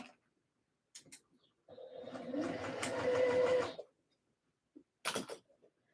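A sewing machine stitches a skort seam at half-inch allowance, running in one steady burst of rapid mechanical whirring for about two seconds, framed by soft fabric handling and small clicks in a quiet room.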